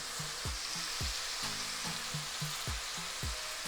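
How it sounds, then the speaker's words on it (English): Saltfish and callaloo cooking in a pot, with steady frying sizzle and a series of regular stirring scrapes and knocks, close and fairly loud, no voices. "When you cook it this way, your saltfish and your callaloo, it's very nice."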